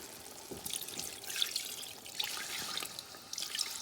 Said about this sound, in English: I'm gonna go in with my coconut milk and water.